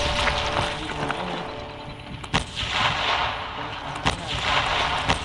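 Tank cannon fire in a Roblox game: several sharp booming shots over a dense rumbling battle background, with excited talking heard faintly beneath.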